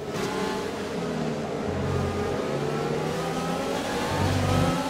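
An AlphaTauri F1 car with a Honda engine accelerates hard on overtake boost in F1 2020, a loud, close, high-revving engine climbing steadily through the gears with no talk.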